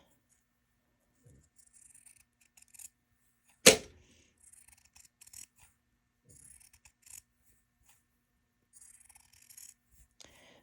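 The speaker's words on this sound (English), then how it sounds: "I'm just gonna go around and trim my seam allowances in half." Scissors trimming fabric seam allowances in half, heard as faint, intermittent snips and rustles spread across the stretch, with one sharp, louder cut near the middle in an otherwise quiet room.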